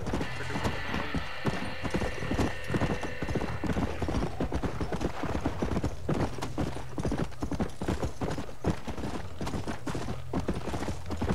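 Rapid rhythmic hoofbeats of a galloping horse in the video game Red Dead Redemption pound continuously at close range, with an occasional whinny mixed in.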